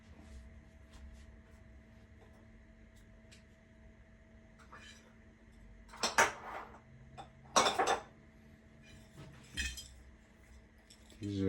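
Glass jars clinking on a pantry shelf, several sharp, bright clinks and clatters in separate bunches over a low steady hum, with a voice talking between them.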